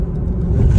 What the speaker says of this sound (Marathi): ट्रॅफिक लय लागतंय रे मध्ये मध्ये हायवेला पण.